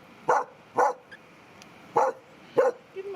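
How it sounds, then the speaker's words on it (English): A small dog barks at a hotel where new neighbors with little ones have arrived; four sharp, evenly spaced barks ring out close by with short gaps between them, then a faint fifth yip at the end, and no one talks. "The dog will scare you."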